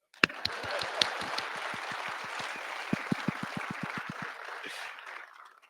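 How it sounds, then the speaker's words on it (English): Audience clapping at the close of the Escape 2025 panel discussion, a steady patter of many hands filling the room, with a few sharp louder claps standing out near the start and the sound tapering off at the end. "clap."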